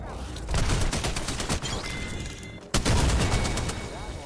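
Bursts of rapid gunfire in the video game Apex Legends, loud and close, with a brief lull before another sharp volley, and a player's voice talking over the shooting.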